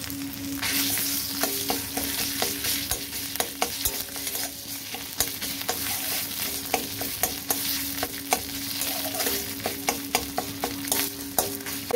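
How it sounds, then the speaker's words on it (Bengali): Ginger paste fries in hot oil in a pan, being cooked for a cucumber curry. A continuous sizzle runs under repeated sharp clinks and scrapes of a spatula stirring against the pan. "তাই একটু আদাটা তেলে ছাড়বো"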